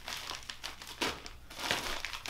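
Plastic packaging bags crinkle and rustle in close, irregular bursts while a FolgerTech FT-5 3D printer is unboxed, with no one talking.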